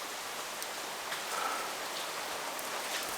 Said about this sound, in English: It just started raining too much